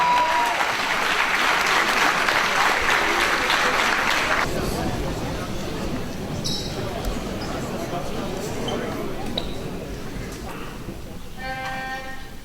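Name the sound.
audience applause welcoming a singer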